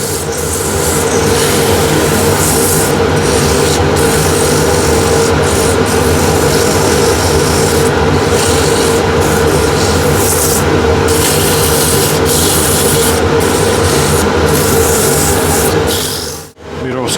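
An ash wood cross-grain box is sanded with 180 grit sandpaper, a loud, continuous abrasive rubbing that runs steadily for many seconds before stopping abruptly near the end.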